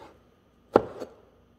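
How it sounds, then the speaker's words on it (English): A knife chops charred Hatch green chilies into small pieces on a cutting board: two close, crisp blade strikes, the first louder, alone in a quiet kitchen. "I remove the stem and I'm chopping them up into small pieces like this."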